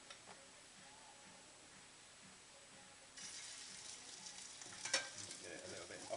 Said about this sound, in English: I'm going to stir fry my beef now for about a minute.